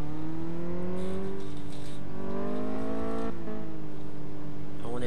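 A car engine in the Car Mechanic Simulator video game whines through a slalom test, its pitch rising and falling in repeated revving sweeps, loud and steady with no talk over it.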